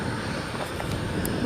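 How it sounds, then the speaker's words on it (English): A Delta Connection airliner turns back along runway 18 Left at Austin-Bergstrom International Airport, its jet engines a steady, fairly loud broadband roar at some distance with no voices over it. "Here's the Delta Connection flight looping back from the other end of runway"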